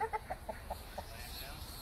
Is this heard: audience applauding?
no